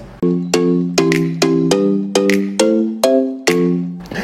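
A sequence of eight bright bell-like chimes rings in a steady rhythm, each struck tone ringing and decaying before the next, loud and alone with no voices, like a notification bell effect.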